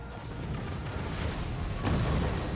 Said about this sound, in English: Let's hit it with a cannon.